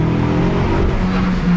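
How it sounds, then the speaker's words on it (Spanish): A sports car's exhaust roars loudly from inside the moving car, a brief, deep, steady growl with a slight rise in revs. "No hay manera de que no vayas sonriendo si vas escuchando ese escape."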